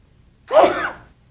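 A single sharp, close sneeze bursts out once in a quiet meeting room, with a gasping intake leading into it and a breathy tail, and no talk around it.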